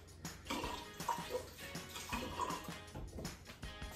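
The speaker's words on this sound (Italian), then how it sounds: "Mi bagno un po' le mani." Hands being wetted with water while making pizza dough produce soft splashing and sloshing in short bursts, close and gentle, with no talk.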